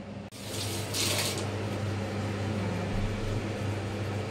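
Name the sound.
chicken cooking and releasing water in a pan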